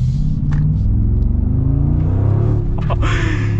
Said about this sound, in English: the throttle is so sensitive in this Sport Plus mode